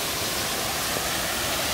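Waterfall in Baekun Valley on Jirisan, deep pools fed by several falling streams, a dense, steady roar of rushing water with no voices over it.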